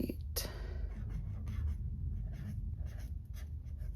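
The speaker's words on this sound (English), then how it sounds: "we'll write" A pen writes by hand in a reading journal with soft, close scratchy strokes, continuous and fairly quiet, and a voice is faintly present.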